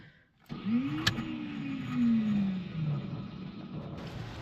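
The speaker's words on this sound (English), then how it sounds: "Oh, did you hear it? You hear the starter? Listen." An MSD car starter motor spins without engaging, a rising whine that settles into a steady running hum, with a brief sharp click near the start.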